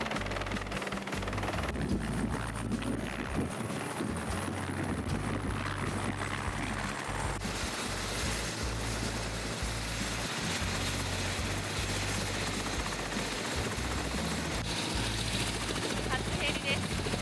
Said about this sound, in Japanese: 初ヘリです。